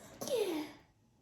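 A single sneeze bursts out indoors in a home kitchen during sugar-cookie baking, sharp and close at first, then trailing off quickly into quiet.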